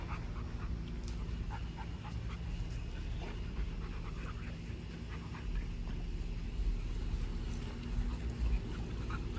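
Dogo Argentinos pant and play outside, with quiet, steady breathing and occasional small whimpers over faint background noise, and no talking.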